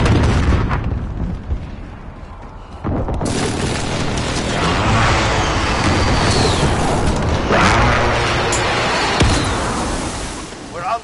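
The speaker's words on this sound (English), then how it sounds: "Enemy precision airstrike." Precision airstrike hitting during an online match of Call of Duty: Modern Warfare: loud, sustained rumbling explosions with several sharp booming impacts, dense and close, with brief in-game voice callouts under the roar.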